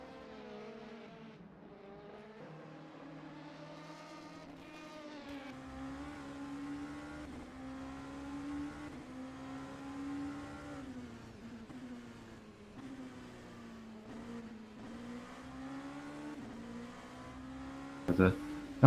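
Race cars lap Spa in a racing video game, with a steady mid-distance engine drone that rises and falls through the gears, a brief tyre screech near the end, and commentary running over it.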